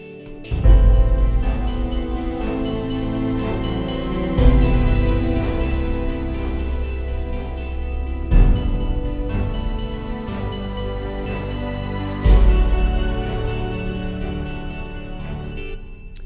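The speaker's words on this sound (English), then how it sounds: "And then we have a more distorted guitar," Distorted electric guitar, with thick, sustained chords swelling and restruck about every four seconds. The sound is loud and dense over a deep low end, with no voices.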